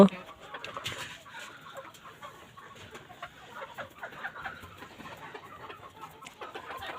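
Desi chickens kept as backyard pets cluck and call steadily at close range during feeding time, with soft rustling and scattered bird sounds throughout.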